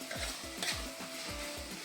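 Brinjal cooking in a spiced tempering for vangibath is stirred in a pan, giving a soft sizzle with regular scraping strokes about every third of a second, close and fairly quiet, no voices.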